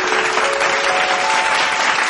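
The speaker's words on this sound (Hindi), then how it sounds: "जोरदार करताली माध्यम स्वागत करवा" A stage audience applauds a singer being welcomed at a music program, a dense, sustained clapping that stays loud and even throughout, with a faint tone ringing beneath it.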